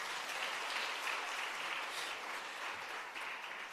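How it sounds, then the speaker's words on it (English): Workshop audience clapping their hands in a steady, dense wash of applause that holds at moderate level for the whole stretch, with no one speaking over it. "Can you clap hands for yourself?"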